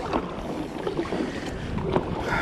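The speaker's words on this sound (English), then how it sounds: "it's a nice little launch. Got a long ways to kayak" A kayak slides out into calm surf at the Galveston South Jetty, with a steady wash of water and hull noise and light wind buffeting the microphone, and no one speaks.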